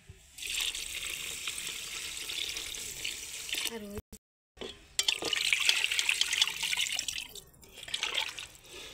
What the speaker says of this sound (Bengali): এখন পরিমাণ মতো পানি দিয়ে রাইস কুকার